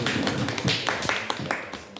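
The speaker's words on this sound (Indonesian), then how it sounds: "kita beri tepuk tangan" Applause breaks out at a community practitioners' school meeting, a short burst of claps from a group with sharp overlapping hits, heard close and fairly loud with some talk mixed in.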